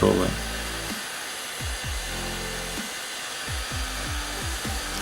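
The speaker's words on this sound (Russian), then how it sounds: "строительный фен" A heat gun blowing with a steady whooshing roar over 3 mm milky acrylic, its pitch dipping and rising several times as the airflow is interrupted.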